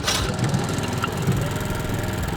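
On a seeded backyard golf-green lawn, a reel mower runs steadily and loudly, its worn cylinder rubbing against the bottom blade in a constant mechanical drone with no pauses.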